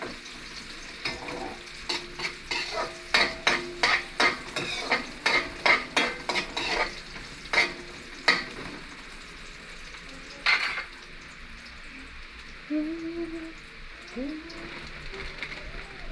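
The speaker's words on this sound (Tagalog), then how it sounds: "So una, igisa natin sa maraming garlic." Lots of garlic sautéed in a pan: repeated sharp scraping stirs over a steady sizzle, close by, with rhythmic strokes that thin out midway before a voice speaks over the quieter frying.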